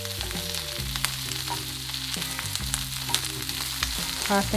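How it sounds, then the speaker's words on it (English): Brussels sprouts and garlic fry in a pan, giving an even, close sizzle with brief tossing rustles over steady background music. "I've got the Brussels sprouts and the garlic in here, and I'm just tossing"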